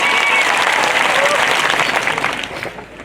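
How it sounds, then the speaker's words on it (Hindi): A crowd at an Adivasi political rally bursts into loud, dense applause that stays strong and then fades over the final second, with some voices mixed in. "इसलिए एक बार जोरदार तालियां आप सबके लिए"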